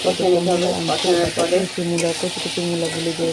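Lentils sautéing in hot oil with onion, tomato and salt, a steady sizzle with scraping stir strokes running throughout, close and fairly loud, while a voice hums or talks faintly underneath.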